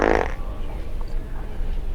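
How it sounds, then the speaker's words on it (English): A fart from a fart mask, a brief loud blat right at the start that is followed by low rumbling noise. "You will fart for me. Fart!"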